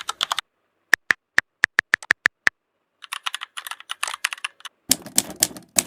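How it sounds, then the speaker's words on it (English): Another typing sound effect: a few quick keystrokes, then a slow, evenly spaced series of about ten sharp typewriter-like clicks, followed by rapid continuous key clatter that grows heavier toward the end. "here you can see there are so many typing sounds options are available"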